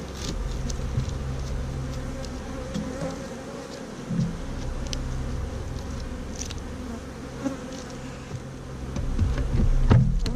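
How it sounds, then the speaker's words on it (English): Honeybees buzz steadily around an open beehive during an inspection, a dense, continuous drone with occasional louder passes of single bees close by. "A lovely hive, full of bees, great."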